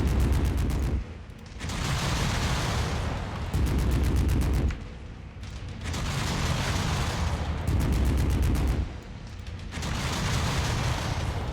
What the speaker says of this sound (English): On 2, I have them just chain fire.